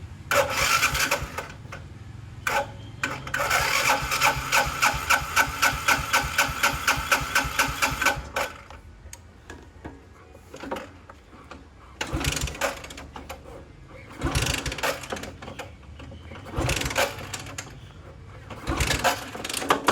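A motorbike left sitting outside for a week is kicked and cranked, giving a loud rhythmic rasping turnover that then dies. Several shorter bursts follow as the engine is tried again.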